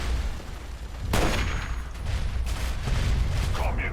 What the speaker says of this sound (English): with the Enclave launching mortar strikes